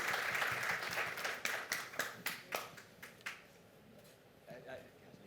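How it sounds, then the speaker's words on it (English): An audience at a public health meeting applauds the panelists, a full round of clapping that thins into a handful of distinct separate claps spaced about half a second apart, then fades to quiet room sound with a faint voice. "I think we should all give a round of applause to all of our panelists, both virtually and on the platform."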